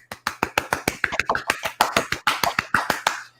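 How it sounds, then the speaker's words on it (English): A polite golf clap played as a sound effect: a handful of sharp, crisp claps in a quick, fairly even rhythm, close and dry, with no voices. "break out the golf clap machine, would you please?"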